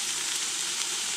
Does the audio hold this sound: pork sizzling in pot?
yes